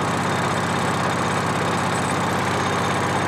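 A YuMZ-6 tractor with a turbocharged diesel engine runs cold, a steady loud rhythmic throb with a dense mechanical clatter close by and no voices.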